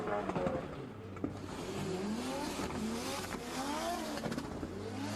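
A drift car spins out mid-battle at the Drift Kings Asia Cup in Malaysia, its engine revving and wailing in rising and falling sweeps over tire noise, loud and continuous, with faint commentary mixed in.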